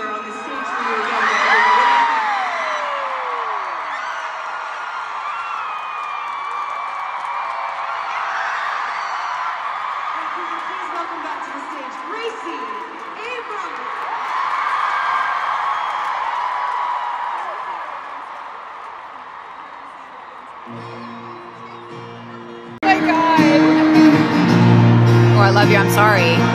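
Concert crowd at an Eras Tour show in Canada screaming and cheering, a dense sustained roar of whoops and shrieks that swells and dips, then gives way to loud music at the end.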